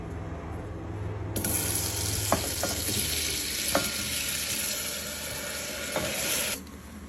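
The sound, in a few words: tomatoes, onion, chili, ginger, garlic frying in melted butter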